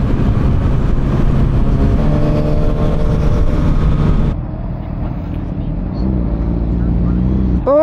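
A 2024 Honda CB650R motorcycle being ridden on a break-in run near 6,000 RPM per gear, its engine a loud, steady buzzing drone that drops away sharply midway, leaving a quieter rumble and wind noise.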